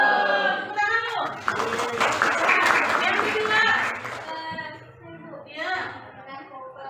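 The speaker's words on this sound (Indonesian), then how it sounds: "Tepuk tangan loh." A classroom of children clapping their hands together in a burst of applause lasting a few seconds, with a teacher and children talking before and after.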